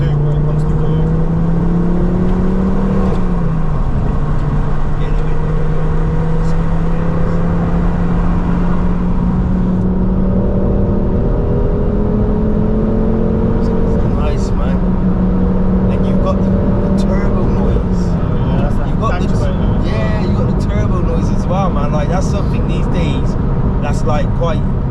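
Ford Focus ST engine droning loudly from inside the cabin while driving, rising in pitch through the gears with a shift around the third second, continuous throughout with people talking over it.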